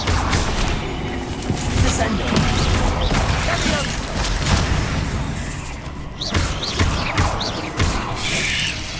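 Spell effects from Hogwarts Legacy, including the Descendo slam spell, come as a dense barrage of crashing thuds, smashing debris and magical whooshes throughout, loud and continuous, mixed with game sounds.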